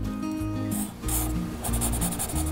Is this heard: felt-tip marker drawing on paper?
yes